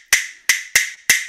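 Four sharp, evenly spaced percussive strikes, struck close and crisply, imitate the pounding rhythm a stick man beats out to accompany a ring shout.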